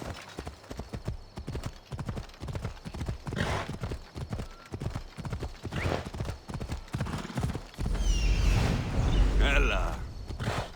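Horse hooves clip-clopping at a steady walking rhythm in Assassin's Creed Odyssey, close and distinct, with a voice calling out and a louder rumbling burst with a whinny near the end.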